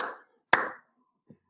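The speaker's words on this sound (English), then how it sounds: "the sound of 2 hands clapping" A single sharp, close hand clap rings out once, after a brief murmur of voice, then quiet.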